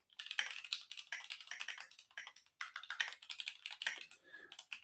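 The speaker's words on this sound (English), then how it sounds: "So I just need to finish typing that." Fast, steady typing on a computer keyboard during an online standards meeting, with dense, close keystrokes clattering almost without pause and only one brief gap, no voices.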